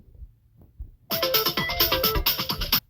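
A phone rings loudly and close by, its repeating electronic ringtone pattern starting suddenly after a few soft knocks and continuing steadily.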